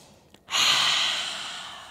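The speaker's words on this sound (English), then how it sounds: "Inhale through the nose. Breathe it out. Open the mouth. Inhale." A single deep exhale during a morning vinyasa yoga practice, a strong breathy rush that starts abruptly after a short sniff and slowly fades, close and clear with no talking.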